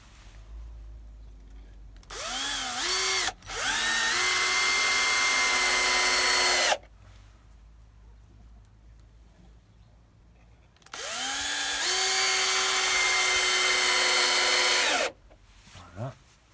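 A power drill drives screws into recycled wood for a chicken coop in two long, loud, close whirring runs, each rising and settling in pitch, separated by a quiet pause with a brief stop-start at the beginning.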